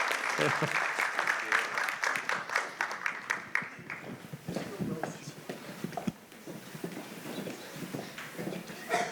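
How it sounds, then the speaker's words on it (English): A city council meeting audience applauds, a mix of scattered claps and a few cheers that fades off. Voices talk over it and carry on after the clapping dies down. "Let's give them a nice round of applause"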